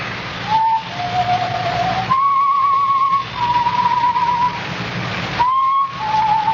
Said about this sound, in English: But I heard that whistling again. That same tune.